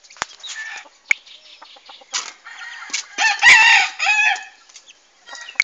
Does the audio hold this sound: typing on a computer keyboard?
no